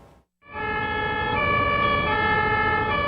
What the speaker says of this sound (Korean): 소방차가 사이렌을 울리며 도로를 질주합니다.